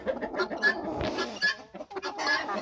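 A fluffy silkie hen clucks close by in a backyard flock, a run of short, uneven clucks and murmurs with a few sharper notes, heard alone without talk.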